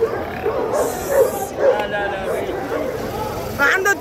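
Dogs yip and bark in short bursts at a busy open-air Friday dog market, mixed with crowd chatter and people talking close by.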